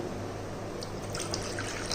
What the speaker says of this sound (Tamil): அதே பவுல்லையே இப்போ நம்ம வந்து தண்ணி ஊற்றிக்கிடுவோம்.